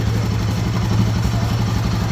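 A parked Royal Enfield Himalayan 450 motorcycle idles with a suspected engine sound issue, a steady close throb with rhythmic pulsing and a light mechanical clatter, loud and unbroken for about two seconds.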